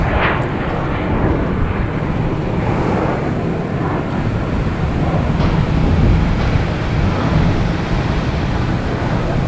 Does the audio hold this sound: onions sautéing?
no